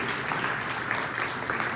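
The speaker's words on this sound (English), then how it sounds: "Yeah, you can applaud that." A Hall of Fame induction audience claps steadily throughout, a close, even wash of many hands with no voices over it.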